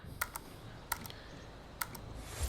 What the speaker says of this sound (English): I've got an Elite controller and the clicking's worse